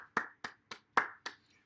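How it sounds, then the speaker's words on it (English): A handful of sharp, evenly spaced hand claps, five in under two seconds, quiet and sparse rather than a full crowd, at a trivia night event. "Big round of applause for Jasper, everybody."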